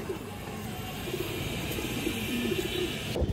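A silver-barred pigeon pair gives low, soft cooing, faint and close, under a steady hiss of background noise.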